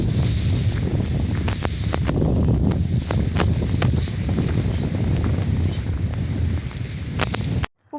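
Strong wind blows across an open farm field planted with black gram, a constant loud rushing roar with gusty buffeting and occasional sharp thumps against the microphone, ending abruptly.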